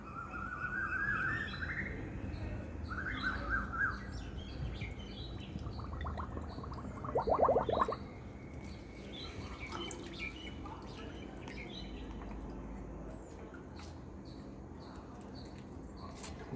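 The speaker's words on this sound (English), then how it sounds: "I'll just put this water into this bottle and utilize it" Water pours into a plastic drink bottle in a garden, with short gurgles whose pitch rises as the bottle fills, then a splashy burst, over a quiet outdoor background with faint birdsong.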